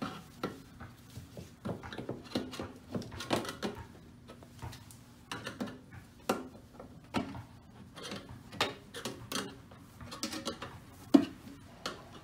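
Metal cans of two-part aluminum primer being pried open, a quiet series of scattered clicks, taps and clanks with a sharp pop near the end, close by and sparse.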